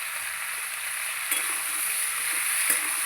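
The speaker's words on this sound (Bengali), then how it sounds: "এবার আমি লাল লাল করে সবজিগুলো ভেজে নেব। দিয়ে দেবো পেঁয়াজ," Onions and vegetables, green banana among them, fry in hot oil with a steady close sizzle and a couple of faint stirring taps, no voices.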